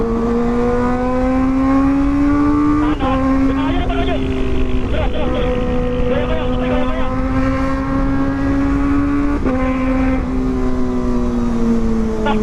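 A Kawasaki ZX25RR motorcycle fitted with a Proliner exhaust rides steadily, its high-revving four-cylinder wail holding loud and close with brief gear-shift dips and rises.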